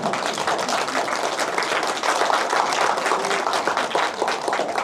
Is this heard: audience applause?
yes